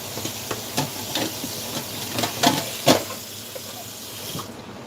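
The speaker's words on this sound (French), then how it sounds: "Et on les rince un petit peu aussi." Dried beans being rinsed under running water for a Castelnaudary cassoulet, a steady hiss of tap water with intermittent splashes and sloshing as the beans are stirred, close and moderately loud.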